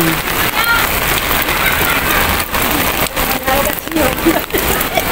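Steady rain pours down outside a legislative building, hissing on hard surfaces in a dense continuous wash, with a few scattered louder drops.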